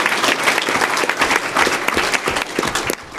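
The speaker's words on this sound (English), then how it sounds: "I'd love to just hear a round of applause" A conference audience at a beer industry gathering breaks into applause, a close, loud flurry of many individual claps with a slightly uneven rhythm that fades just at the end.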